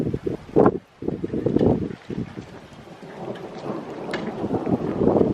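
Rainstorm with rolling thunder: heavy rain patters steadily on surfaces while low thunder rumbles swell and fade, loud and close, with some wind and no speech.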